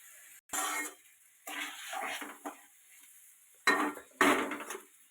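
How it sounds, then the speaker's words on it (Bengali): Basanti pulao being stirred in a cooking pot with a spoon, making several separate bursts of scraping and rustling against the pot, with quiet gaps between the strokes. "দেখো এবার একটু নেড়ে নিলাম।"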